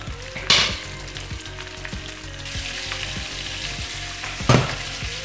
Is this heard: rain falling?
no